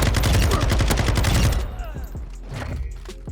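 A Sakin MG38 light machine gun fires in Modern Warfare 2: a fast sustained burst of loud, close automatic shots, then the echo dies away into a few scattered thuds and game noise.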